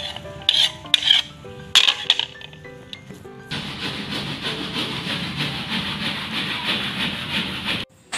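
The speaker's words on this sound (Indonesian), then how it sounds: "Setelah halus, dimasukkan ke dalam wadah dengan menggunakan sendok." A spoon scoops mashed broccoli into a container in a lab: a few sharp clinks and scrapes of metal against the vessel come first, then a steady, close scraping and rumbling rush that continues to the end, with no voices.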